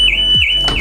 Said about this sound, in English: Alarm went off